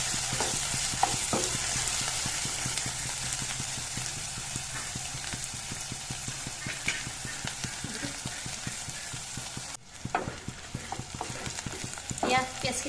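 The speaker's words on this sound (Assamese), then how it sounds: "আদা নহৰু পেষ্টটো এইখিনি অলপ ভাজি লওঁ" Ginger garlic paste fries in hot oil for chicken curry, a steady close sizzle with repeated scraping stir strokes throughout and a short break near the end, no voices.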